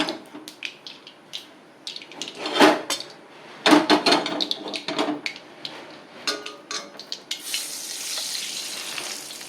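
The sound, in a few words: mustard seeds spluttering in hot oil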